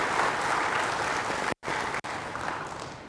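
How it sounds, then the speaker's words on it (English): Audience applause at a corporate housing finance gathering, steady dense clapping from a sizable crowd, broken by two short dropouts in the middle. "So big round of applause to all of us."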